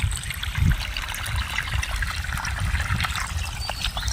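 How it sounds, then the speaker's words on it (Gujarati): Water dribbles slowly from a motor-pumped pipe into a paddy field, a thin, continuous trickling and splashing heard up close, steady throughout and with no voices. "બહુ ધીમું પાણી આવતું છે"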